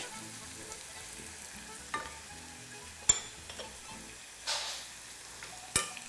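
Garlic frying in a pan with a gentle, steady sizzle, broken by a few louder crackles and stirring scrapes.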